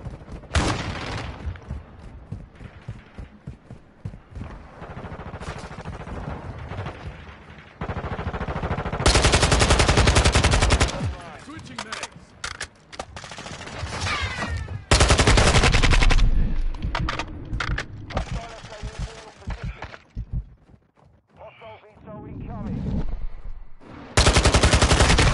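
Loud, sustained machine-gun bursts and rattling gunfire from Call of Duty: Modern Warfare come in repeated long volleys with short pauses between them, and the shooting dominates throughout.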